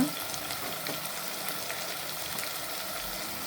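Tomatoes fry for puri sagu in a hot pan, giving a steady, dense sizzle and crackle that holds at an even level throughout, close by, with no voices over it.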